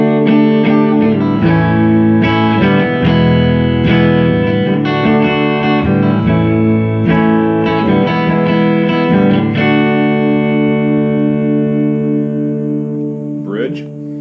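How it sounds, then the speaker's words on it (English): A PRS SE Custom electric guitar played clean on the neck pickup rings out in loud, sustained strummed chords and picked notes, then fades as the last chord decays. "Do some clean tones. Start with the neck."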